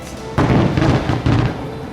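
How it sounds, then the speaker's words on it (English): Two deep booms roll out in quick succession, each a heavy rumbling blast with a lingering tail, loud and fairly close. "that was a big firework."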